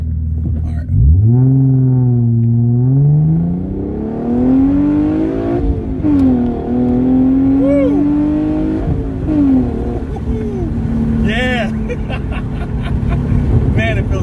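A Genesis Coupe with a newly installed manifold riser revs repeatedly, loud and close, its engine note climbing and falling. A few sharp throttle pops crackle near the end.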